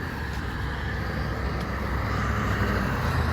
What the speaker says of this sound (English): It's the maintenance truck.